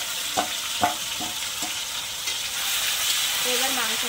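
Marinated meat dropped into a pan of fried spices for a home-style dum biryani, a steady oil sizzle with a few soft stirring knocks and scrapes, fairly close.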